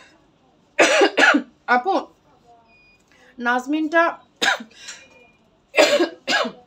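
A woman coughs several times in short harsh bursts, close and fairly loud, with brief speech between the coughs in a quiet room.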